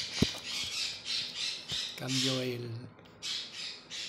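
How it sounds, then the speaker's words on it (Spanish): A pet parrot squawks in harsh, repeated shrieks, several in a row with short gaps, close by, while a person briefly speaks over it. "si escucháis algo de fondo así chillando, es el loro de mi hija que no para de chillar"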